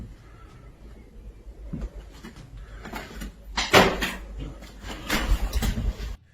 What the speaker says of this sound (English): Somewhere nearby a door closes all by itself